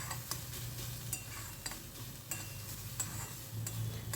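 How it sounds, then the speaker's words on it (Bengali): Vegetable momo filling stirred and beaten with a spatula in a pan: repeated sharp scraping taps over a steady low sizzle, close and moderately loud, with no voices. "বেশ খুন্তিটা দিয়ে পিটিয়ে পিটিয়ে নেড়েছি।"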